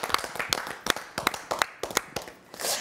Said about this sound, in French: On peut encore une fois l'applaudir.